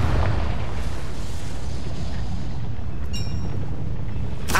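A Confringo blasting spell in Hogwarts Legacy sets off a loud, rumbling explosion that rolls on as a dense roar, followed by a brief bright magical chime and a sharp burst at the end.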